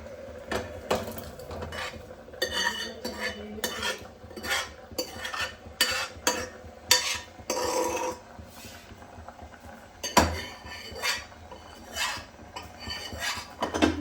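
Metal spoon clinks and scrapes in a pot as cooked dal is added and stirred into drumstick sambar, with repeated clattering strokes and knocks at close range, no talking.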